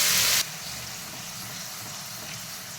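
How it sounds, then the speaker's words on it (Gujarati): Gravy for a sponge gourd curry is poured into hot oil with mustard and cumin seeds. It opens with a loud, brief splashing burst, then settles into a steady, softer sizzle that continues to the end. "હવે આ થાય એટલે આપણે જે ગ્રેવી બનાવી હતી એ એડ કરી દેવાની।"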